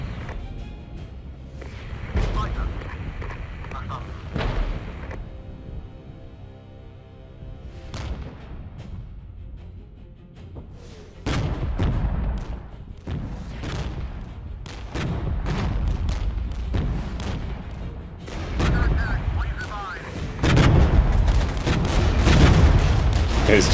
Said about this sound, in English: That's a good target for the artillery DPICM.